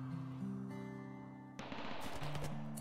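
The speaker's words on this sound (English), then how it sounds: "Oh no, the gun turrets are totally firing on them." Gun turrets in the Rimworld colony game open fire partway through, a rapid, crackling string of automatic shots cutting in over quiet tonal game music and continuing steadily to the end.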